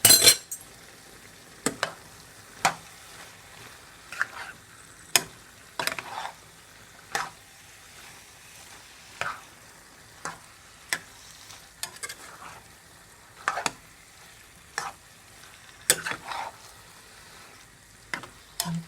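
Pumpkin frying with shrimp is stirred in a pan, Guyanese style, with a low sizzle under repeated sharp scrapes and clinks of a spoon against the pan, coming in irregular strokes every second or two.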